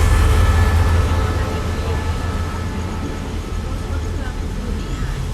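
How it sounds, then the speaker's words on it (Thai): A steady, loud rumble of a locomotive-hauled Thai passenger train rolling along from Bangkok, continuous low mechanical noise filling the whole stretch. "อันนี้ก็จะเป็นรถไฟ"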